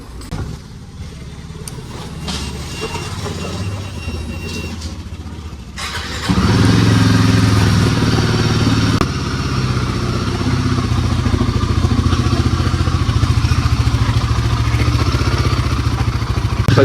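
A motorcycle engine fires up after a few seconds of quieter background, then runs at a loud, steady idle close by for the rest of the clip, with no one talking.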